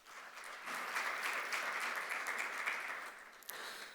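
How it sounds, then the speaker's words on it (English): Steady crowd applause at a business summit, a room full of clapping that swells quickly and holds for a few seconds before tapering slightly. "Can we please have a huge round of applause for them?"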